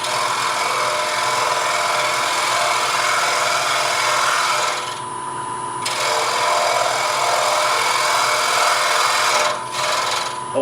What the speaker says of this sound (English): I'm cutting from the center outward with the gouge rolled over approximately 45 degrees